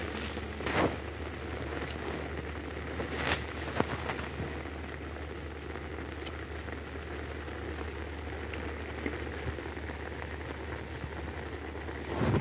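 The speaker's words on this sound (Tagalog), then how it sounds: "Kasi umuulan." Light rain patters steadily on surfaces, faint and continuous, with a few sharper drips and taps scattered through the quiet wash.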